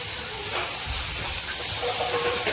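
Spice masala with fish and potatoes frying in a pan, a dense continuous sizzle and hiss close up, steady with faint stirring and no talk.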